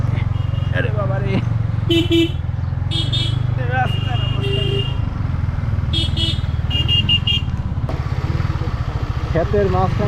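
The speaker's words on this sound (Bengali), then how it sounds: "ক্ষেতের মাঝখান দিয়ে গাড়ি চালাইতেছি" A motorbike rides along a path through fields with a loud, steady engine drone close by, punctuated by several short horn toots from passing traffic, while someone talks over the ride.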